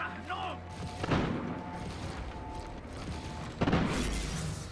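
Gunfire and impacts during a Call of Duty Ghosts campaign mission, with a loud crack near the start and another heavy blast near the end over a busy, noisy battle backdrop.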